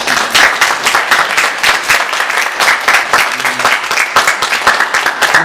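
A church congregation applauds during a Sunday worship service, producing dense, continuous clapping from many hands that holds at a steady level throughout.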